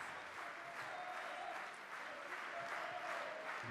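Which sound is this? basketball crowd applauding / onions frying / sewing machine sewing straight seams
basketball crowd applauding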